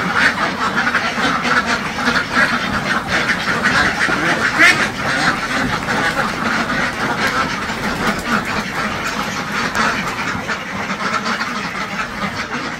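Many ducks quack steadily in a crowded pen on a Bangladeshi duck farm, a dense continuous chorus of overlapping calls close by with no pauses.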